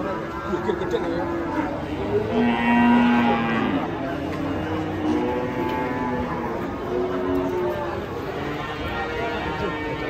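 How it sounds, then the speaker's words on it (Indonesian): Two agitated cows moo and bellow loudly amid a noisy outdoor crowd, with people talking and shouting throughout. "dua sapi ngamuk"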